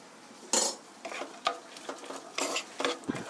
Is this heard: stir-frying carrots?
yes